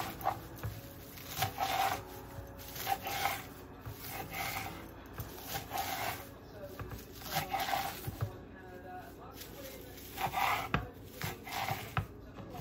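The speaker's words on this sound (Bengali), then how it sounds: "এবারে পাতাটাকে একদম ছোট ছোট করে কুচি করে নেব" A knife finely chopping washed pumpkin leaves on a board in a home kitchen, a steady run of soft close cuts in irregular bursts with brief pauses.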